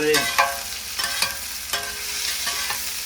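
Onions and chilies stir-frying in a pan for kottu roti, with a steady close sizzle and repeated sharp clacks of a utensil stirring and tossing the mix, no talking.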